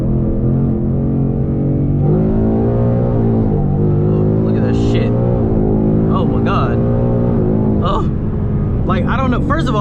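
A 2022 5.0 V8 with a 10-speed automatic pulls hard under full acceleration, its loud, deep drone climbing in pitch and dipping at each gear change, with talking over it from inside the cabin.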